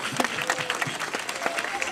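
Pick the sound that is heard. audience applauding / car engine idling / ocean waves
audience applauding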